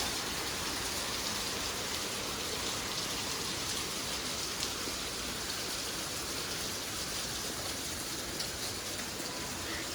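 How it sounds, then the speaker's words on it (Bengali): Heavy rain pours down outside and is heard from a rooftop, a dense, loud, steady hiss of drops on surfaces that holds unbroken for the whole stretch with no voices. "দেখো কি জোরে বৃষ্টি না হচ্ছে বাইরে"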